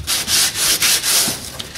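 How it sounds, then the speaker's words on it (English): A hidden blade part being sanded by hand: rhythmic scratchy rubbing strokes, about five or six back-and-forth passes, close and fairly loud, with no talking. "Now I need to sand it down"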